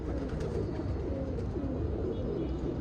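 Pet pigeons or doves make soft, rolling coos close by, one low call after another over a steady murmur of background noise.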